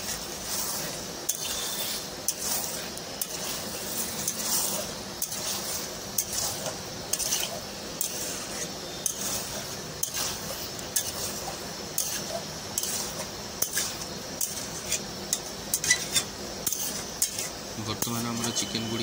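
Chicken is mixed with masala in a pot for a homestyle curry: repeated metallic spoon clinks and scrapes against the pot at a regular rhythm over a low sizzle, with no talking.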